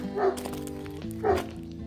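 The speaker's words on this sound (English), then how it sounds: "That's Bruno barking" Two sharp dog barks about a second apart, close by on a farm in New Zealand, over a quiet background hum.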